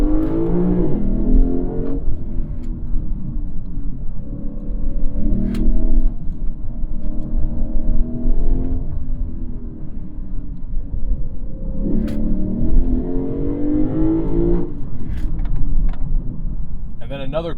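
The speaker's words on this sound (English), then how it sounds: "And now I'm going to turn active sound on the max setting." A 2022 Lexus IS500 engine revving with its active sound turned to the max setting: a loud, close, continuous rumble whose pitch rises and falls through several swells, with a voice heard faintly underneath.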